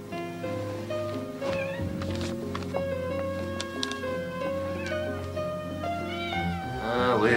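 Cats meow repeatedly, several drawn-out, pitch-bending calls following one another at close range, ending in a louder wailing cry with faint background sounds.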